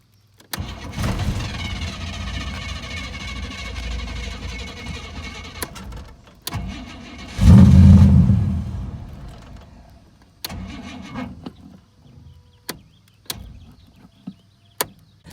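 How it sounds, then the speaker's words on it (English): A third-generation Camaro with a carburetor needing adjustment cranks over several times, catching and running briefly before stalling, followed by sharp knocks and clicks in a quiet garage. "I'll try to crank it up. You'll crank up and then it will just stall out."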